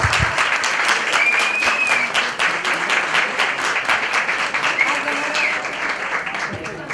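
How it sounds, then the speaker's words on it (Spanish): Audience at a talk on transitioning to veganism gives a strong round of applause welcoming the speaker, continuous dense clapping from a sizable crowd with some murmured voices underneath. "La recibimos con un fuerte aplauso."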